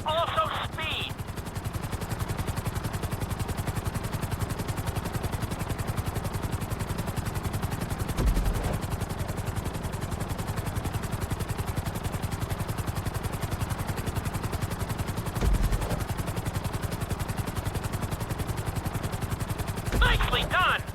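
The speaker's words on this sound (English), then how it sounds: "we'll see how well you handle the chopper" Helicopter in a GTA 5 flight school challenge, a steady dense rotor chop running loud and unbroken throughout, with brief bursts layered on top near the start and the end.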